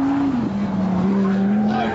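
A Lamborghini Gallardo on cold tyres pushes hard around a race track, its engine note rising and falling close by while the tyres squeal and skid through a corner.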